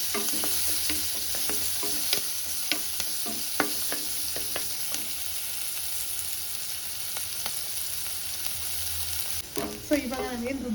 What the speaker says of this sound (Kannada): 1 ಹೆಚ್ಚಿಟ್ಕೊಂಡಿರೋ ಈರುಳ್ಳಿ, ಇದನ್ನು ಚೆನ್ನಾಗಿ ಫ್ರೈ ಮಾಡಿ.